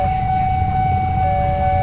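A train on the Jakarta–Bogor line nears a railway level crossing, giving a steady, siren-like tone over a low rumble, brief and fairly loud.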